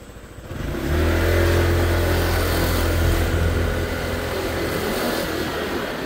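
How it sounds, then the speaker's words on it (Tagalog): A Senlo X2 Plus motorcycle engine revs up from a quieter idle, then holds a loud, steady growl close by, with no voices over it. "Sige, so iikot natin yung motor."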